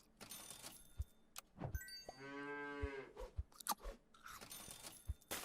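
A cow moos once in a video game, a long drawn-out low call in the middle, surrounded by scattered clicks and taps of gameplay sounds.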